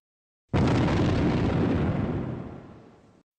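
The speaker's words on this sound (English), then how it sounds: "it was a common occurrence to hear this warning being called out prior to the sound of an explosion" Dynamite blast during construction of a lake shore road in a state park: one loud, sudden boom that rumbles on and slowly fades over about three seconds, with no voices.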